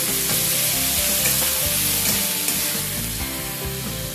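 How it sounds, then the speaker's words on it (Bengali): Tomato and spices frying in a pan for a spicy Bengali chicken kosha, a loud continuous sizzle up close with scraping stirring strokes throughout. "এটাকে আরো কিছু সময় নিয়ে একটু কষিয়ে নেব"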